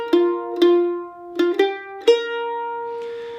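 A mandolin plays the pickup notes into the first measure of a Mountain Dew break, a few bright plucked notes in an uneven rhythm with gaps between them, each note ringing and fading, played solo and up close.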